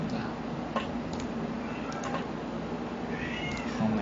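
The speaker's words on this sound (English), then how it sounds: "Oh my god, cat." A cat meows in the UFO: Enemy Unknown game, a few faint mews over a steady, muffled background hum with light ticking.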